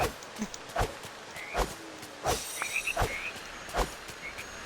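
Cartoonish frogs croak in Disney Dreamlight Valley, a series of short, separate calls at an uneven pace, sounding fairly close and set over soft rustling footsteps.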